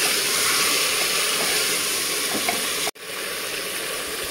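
Goat meat fries in hot oil with ginger garlic paste, giving a steady loud sizzle and hiss that briefly cuts out before continuing.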